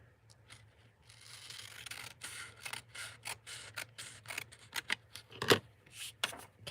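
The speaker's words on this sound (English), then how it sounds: "I'm going to want to cut a little bit off that edge" Scissors snip along a paper edge during crafting, a quiet irregular series of short crisp cuts and rustles, close and alone without talk.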